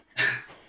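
A single short, close cough from a man at a tabletop role-playing game session, a sharp burst fading into a brief breathy tail.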